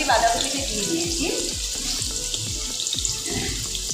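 Potatoes frying in a pan with a little turmeric and salt, a steady close sizzle with running-water texture throughout, with intermittent scraping or stirring sounds.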